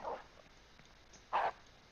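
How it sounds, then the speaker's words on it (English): A dog in a video game barks twice at the player, a short burst at the start and a louder, closer one near the end, with quiet game ambience between. "There's a dog attacking me."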